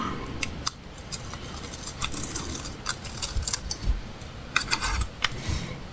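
A protective backing sheet peeled off an adhesive scrapbooking sheet, giving a dry, crackly, papery tearing with sharp clicky snaps scattered across a steady close-up rustle, no voices.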